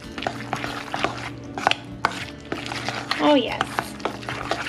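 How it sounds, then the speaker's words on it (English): Raw eggs are mashed and stirred into a pumpkin stuffed-shell filling in a bowl, with soft squishing, scraping and light utensil clatter running steadily throughout; a voice speaks briefly partway through. "Just want to make sure they're really mushed around and mixed in here."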